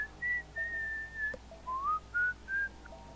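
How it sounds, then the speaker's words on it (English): A person whistles a wavering tune over online voice chat during a Halo or Left 4 Dead gaming session, several short sustained notes with gaps between them, sitting clearly above faint background hiss. "That's a lot of whistling."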